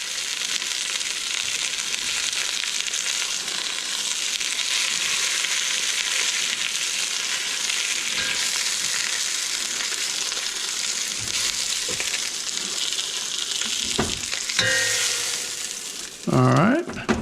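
Oxtail pieces for Cuban rabo encendido sear in a hot pan with a steady, loud hiss and sizzle, broken near the end by a few clinks and scrapes as the meat is moved.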